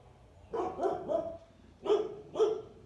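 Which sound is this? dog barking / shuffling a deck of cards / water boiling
dog barking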